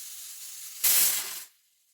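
A pressure cooker on a kitchen stove lets out one loud, close hissing whistle that rises sharply, holds for about half a second, then fades into quiet, with no talking over it.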